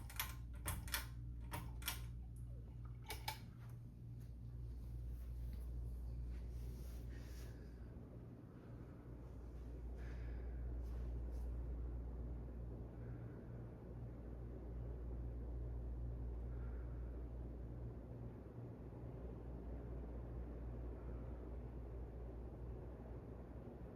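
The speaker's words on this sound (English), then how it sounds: "we're gonna crank this fan to high and see what this fan does" Craftmade Decorative 42-inch ceiling fan running on high speed, a low steady whooshing hum that swells and fades slowly, with a few sharp clicks near the start and no talk.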